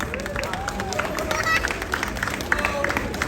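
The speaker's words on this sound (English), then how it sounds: "Give the tarantula more of an applause" Audience at a SeaWorld Orlando night show applauds a curly-haired tarantula named Octavius, with steady clapping and crowd noise that carries on evenly throughout, and a voice talking over it.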